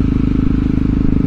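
A Motard motorcycle engine running while being ridden, a steady low, throbbing drone with a rapid pulsing rhythm, loud and close throughout.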